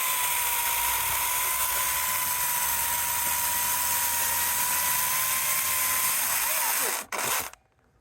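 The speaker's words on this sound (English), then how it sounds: "Let's go cut some firewood with this and see how it does with the firewood" An Oregon Speedcut Nano chainsaw cuts through dead, dry oak firewood outdoors, a sustained high, buzzing whine held steady for several seconds before the chain cuts off abruptly near the end.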